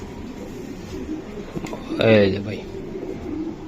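Chocolate racer pigeons in a racing loft give a close, throaty coo that swells in the middle, while people talk nearby over a soft murmur of other birds.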